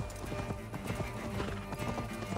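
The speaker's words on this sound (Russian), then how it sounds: "Конь." Horse hooves clip-clop at a quick, steady gait in the video game Assassin's Creed Valhalla, close and continuous, with a brief whinny over the game's ambient sound.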